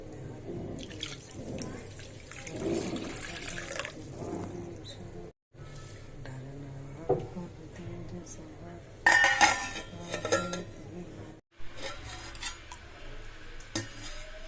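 Semolina and urad dal being washed for idli: water sloshing and splashing in a metal vessel, with clinks of utensils against the pot and occasional drips, close by.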